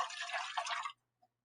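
Water is poured into a geometric container up to the brim and spills over, a short burst of splashing trickle that stops suddenly, followed by one faint drip.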